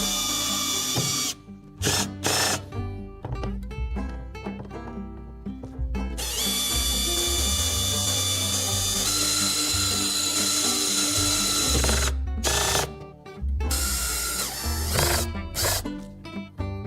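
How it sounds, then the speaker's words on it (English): A power drill runs steadily at low speed for a long stretch, setting well nuts for a kayak outrigger, with brief pauses and restarts and a grinding, mechanical whir close by. "I'm going to put the drill on low speed and go nice and slowly"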